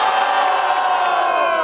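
A crowd at a regional freestyle rap battle in Brazil roars and shouts in support of a rapper, a loud, dense, continuous wall of cheering voices.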